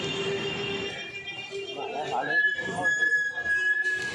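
A metro train hums through Kalighat metro station in Kolkata, a high sustained whine rising and holding as the carriage moves, with people talking over the rumble.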